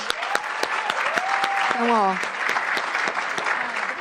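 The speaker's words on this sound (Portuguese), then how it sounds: "Uma salva de palmas para ele, gente" Audience applause for a prize winner at a HackBrazil impact pitch arena event, steady dense clapping throughout with a presenter's voice talking over it.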